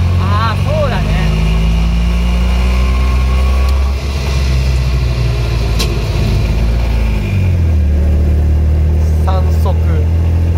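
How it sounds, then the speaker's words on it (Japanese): A vintage Showa-era three-wheeled vehicle's single-cylinder engine runs steadily up close, with a loud low throb that carries under speech and a rev change near the end. "エンジンはね、単気筒だもん。 あー、単気筒。 単気筒。 発電機みたいな感じだよ。"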